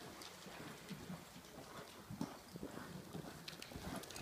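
Hooves of a horse thud softly and at a distance during a reining demonstration at an open western riding day, an irregular loping beat on arena ground with light wind noise and no voices.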